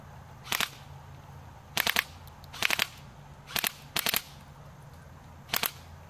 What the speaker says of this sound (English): so we got fully automatic assault rifle.